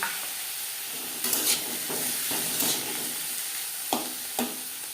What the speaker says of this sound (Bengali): দিয়ে দিলাম টমেটো কুচি